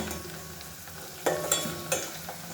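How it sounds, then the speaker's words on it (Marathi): Onion frying until browned in a pan for a Maharashtrian bhaji, a steady low sizzle broken by several sharp scraping stirs of a spoon against the pan. "हे बघा मस्त भाजलाय कांदा."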